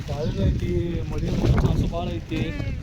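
Strong wind buffets the microphone in a steady low roar, with a voice talking over it throughout.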